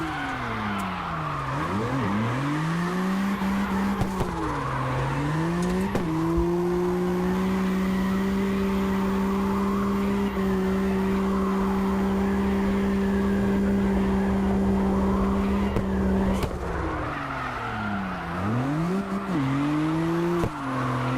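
Tire squeal from a car drifting in CarX Drift Racing Online, entered with a handbrake: a loud, sustained skid with a steady engine drone that swoops and wavers as the slide changes, continuous for about twenty seconds.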